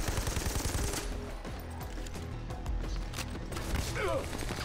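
Bursts of automatic gunfire in Army of Two: The Devil's Cartel, loud and close, arriving in clusters with short gaps between them, under a voice speaking briefly.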